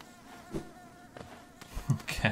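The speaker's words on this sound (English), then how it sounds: "I love bees, but I don't love the buzzing." Bees in the video game Hollow Knight give off a soft insect buzz in short, intermittent bursts at a low level, with light game sounds mixed in.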